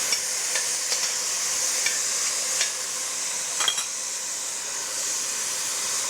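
Chicken stock hits a hot pan of stir-fry and sets off a steady bright sizzle and steamy hiss, with faint scattered clicks of stirring across the whole stretch and no talking.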